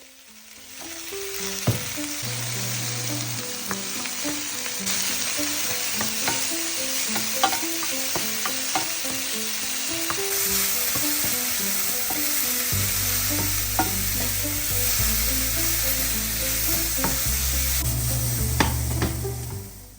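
Red bell peppers roasting in oil with salt in a pan, a steady close sizzle with occasional stirring scrapes throughout, alone with no voices, under an overlaid tune of plucked notes.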